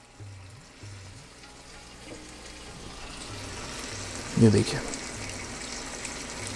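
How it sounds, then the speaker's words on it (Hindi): Water is poured into a hot pan of vegetables for desi paneer chilli, setting off a short loud burst of sizzling and bubbling midway, while a person talks and a low hum pulses in the background. "अब इसके अंदर थोड़ा सा हम पानी डालेंगे।"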